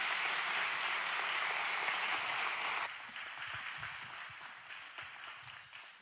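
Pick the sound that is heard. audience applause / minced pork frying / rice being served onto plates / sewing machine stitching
audience applause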